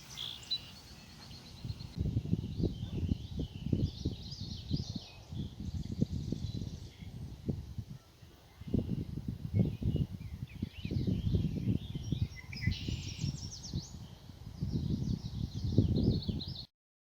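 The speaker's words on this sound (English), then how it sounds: "I hear birds." Faint birdsong chirps outdoors near a small cabin in summer greenery, scattered high calls over a steady low rumble of distant machinery such as a dump truck and lawnmower.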